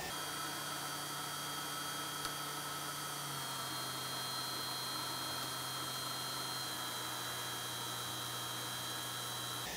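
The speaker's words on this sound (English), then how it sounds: "You can hear turbine is slowing down." A laboratory test turbine runs with a steady faint hum and high whine as braking slows it, the tone dipping slightly partway through against a constant noisy background.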